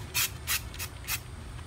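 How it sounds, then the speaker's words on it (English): Four short hissing bursts of spray paint, galvanized hammer-finish paint sprayed onto a tin, each puff about a quarter second long with brief pauses between, close and fairly loud over a low background rumble. "I'm going to spray paint this one with the galvanized, the hammer spray paint."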